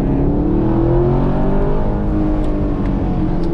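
Car engine revving steadily while the driver loops in tight circles, a loud, close, continuous drone sliding slowly upward in pitch, with a few faint clicks toward the end.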